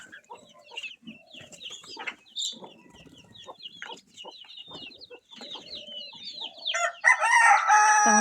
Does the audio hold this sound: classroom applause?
no